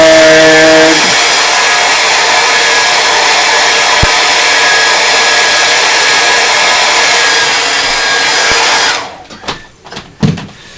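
Handheld hair dryer blowing on wet paint on a canvas during a landscape painting session, a loud steady whir held for about nine seconds before it switches off and a few soft handling knocks follow.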